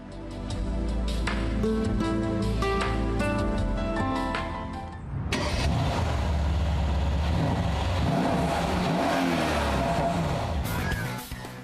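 A powerful Mercedes SL 5.5-liter twin-turbo engine revs loudly, then roars as it accelerates away, staying loud and close throughout.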